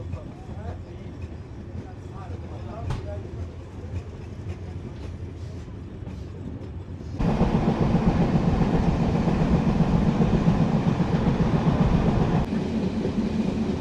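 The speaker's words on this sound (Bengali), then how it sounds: "লোহাগড়া ক্রস করছে এখন আমাদের ট্রেন।" A passenger train on the Kolkata to Dhaka line rumbles along the rails near Lohagara, a steady rolling noise that grows abruptly louder and denser halfway through, with faint speech beneath it early on.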